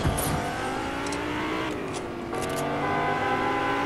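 Car engine in the Fortnite video game, a steady droning hum with slight shifts in pitch running through the whole moment, loud and continuous, with gaming sounds layered on top.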